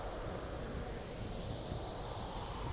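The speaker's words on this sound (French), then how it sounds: "Le vent soufflait fort et s'engouffrait dans la maison." Strong wind blows as an audio story effect, a steady broad whooshing rush with slight swells, held at an even level throughout with no voices.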